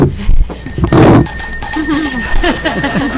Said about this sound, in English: So what do you think of when you hear that bell?